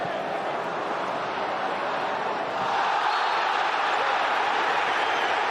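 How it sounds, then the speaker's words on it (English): Roaring football crowd in a packed stadium at a Manchester United vs Arsenal match, a steady dense wall of cheering that swells louder halfway through and holds. "Well, the crowd now are very much"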